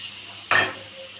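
Ground coriander and cumin paste dropped into a hot pan gives one sudden sharp sizzle that fades quickly, up close with no talking.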